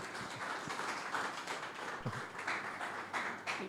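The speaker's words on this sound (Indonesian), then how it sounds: "Saudara berikan tepuk tangan." Wedding guests in a chapel clap together at a ceremony, a fairly soft but continuous patter of many hands with scattered sharper taps, lasting throughout without talk.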